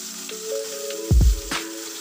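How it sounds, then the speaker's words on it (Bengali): Small morola fish fry in hot mustard oil in a kadai, giving a steady hiss with a brief louder crackle partway through. "মাছটা ভাজা হতে থাক"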